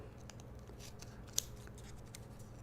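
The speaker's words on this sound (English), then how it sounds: "Once you have that tape, you can trim it down." Scissors trimming tape on a paper rocket, a few soft snips close by with one sharper cut in the middle, quiet and without talk.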